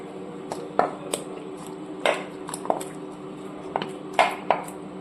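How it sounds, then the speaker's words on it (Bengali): Pieces of rohu fish dropped into a cooking pot of simmering curry with cauliflower and potato, giving a series of sharp clinks and soft wet plops spaced irregularly over a steady low background hum. "ফাইনালি মাছগুলোকে আমি অ্যাড করে দিলাম"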